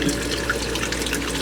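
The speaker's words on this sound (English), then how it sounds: "a sump pit that is constantly flowing" Water flowing steadily into a sump pit in a soaking wet crawl space: a continuous, fairly loud rushing and trickling with no pauses.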